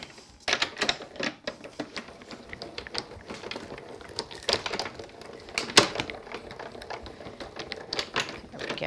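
A die cutting machine cutting card for a handmade Valentine butterfly card, heard as a series of sharp mechanical clicks and rattling cracks, fairly close and irregular over several seconds.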